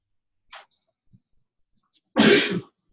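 A single sharp sneeze bursts out after a brief quiet, close and fairly loud, preceded by a faint small intake of breath.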